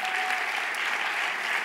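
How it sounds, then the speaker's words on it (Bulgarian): A church congregation breaks into steady applause, a dense, continuous wash of many hands clapping in a large room, loud and sustained throughout. "Нека ръкопляскаме на Венци."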